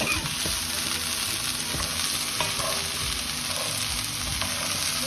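Okra curry with onions sautés loudly in a pan, a dense continuous sizzle and hiss close up with occasional stirring scrapes and no voices.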